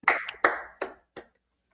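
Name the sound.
clapping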